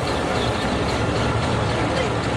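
The Thal Express passenger train pulls out of Taxila railway station, a dense, steady rumble of rolling wagons and engine noise close by, with muffled voices mixed in.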